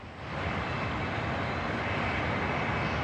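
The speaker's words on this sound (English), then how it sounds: "the engines are just getting started up on these planes" A loud, steady roar of aircraft engines swells up quickly and holds, a broad whooshing drone with no voices over it.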